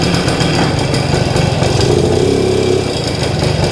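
A vintage Kawasaki MT1-B motorcycle engine runs steadily nearby, a loud continuous buzzing putter with a slight rhythmic shift partway through.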